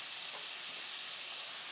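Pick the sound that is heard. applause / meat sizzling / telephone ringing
meat sizzling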